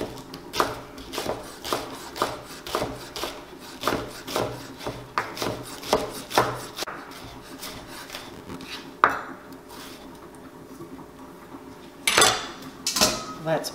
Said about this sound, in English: So let's chop our 4 green scallions.